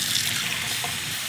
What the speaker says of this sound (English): over here to our water dispenser, you're gonna need